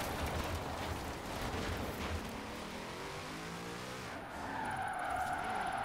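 Tires skid and squeal on a Corvette drifting in a video game, a continuous loud hiss of sliding rubber with engine noise, rising to a sharper squeal near the end.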